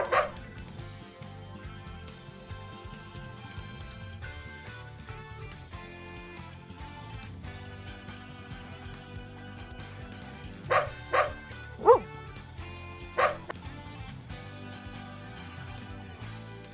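Small, high-pitched yips and barks from a few puppies in a Unity video game pop up in quick bursts over a quiet, looping musical background.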